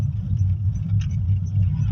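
Steady road traffic in Karen, Nairobi, Kenya, with car engines rumbling low and continuous, a dense nearby hum of idling and slowly moving vehicles and no talk.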